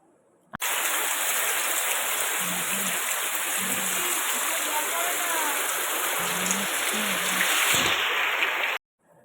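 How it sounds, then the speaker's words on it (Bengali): Sudden heavy rain pours down in a dense, steady roar that starts abruptly and holds at full strength before cutting off, with a voice faintly audible beneath the downpour. "হঠাৎই এত জোরে একটা বৃষ্টি এলো যে কি বলবো"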